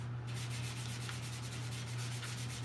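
A small piece of sandpaper is rubbed over wood in quick back-and-forth strokes, making a steady, close, scratchy rasp with a constant low hum underneath.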